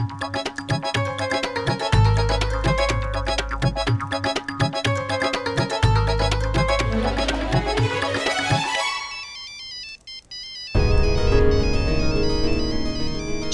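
A mobile phone ringtone plays loud and alone, a bright repeating electronic melody over a steady beat that cuts out briefly and then returns as a different tone.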